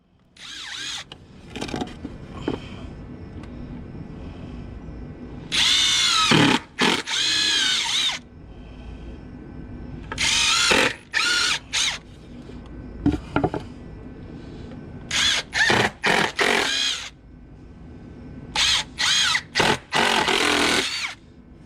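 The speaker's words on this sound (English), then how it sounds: "After cutting it out, it was time to countersink." A power drill countersinks holes in wood, whining in repeated short bursts of a second or two, separated by pauses with quiet background, close and fairly loud.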